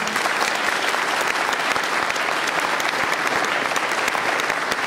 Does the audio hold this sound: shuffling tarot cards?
no